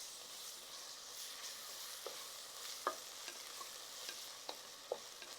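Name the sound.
sautéing ginger garlic paste in a pan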